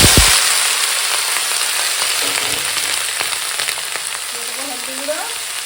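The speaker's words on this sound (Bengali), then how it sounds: "তেল গরম হয়ে গেছে শুকনো লঙ্কা ফোড়নে দিয়ে দিলাম এখন দিয়ে দেবো আলু আর পেঁয়াজ দিয়ে" Potatoes and onions drop into hot oil with dried red chili, bursting into a loud sizzle that settles into a steady crackling fry, with occasional light stirring scrapes.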